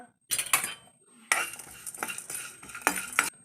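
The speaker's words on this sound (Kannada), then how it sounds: "ಈಗ ನಾವು ಜೀರಿಗೆಯನ್ನು ಹಾಕೊತಿದ್ದೇವೆ ಫ್ರೆಂಡ್ ಅದು ಚೆನ್ನಾಗಿ ಬಾಡಿಸೋಣ" Dry coconut, black pepper and cumin are dry-roasted in a pan, stirred with a metal spoon that scrapes and clinks against it in irregular bursts, with a faint sizzle and short pauses between strokes.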